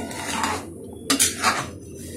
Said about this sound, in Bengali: 10 মিনিট পর আমি ঢাকনাটি খুলে দেখে নিচ্ছি ডাল সেদ্ধ হয়েছে কিনা।